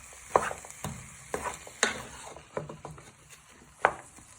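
Chicken pieces and onions are stirred and tossed in a hot pan, with scraping utensil strokes and light crackling sizzle in irregular bursts, close and moderately quiet.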